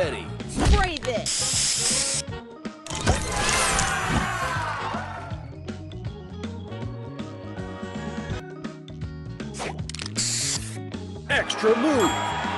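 Spray booster effect from the Color Crystals puzzle video game, heard as repeated loud hissing spray bursts mixed with game music and chimes, several bursts across the stretch.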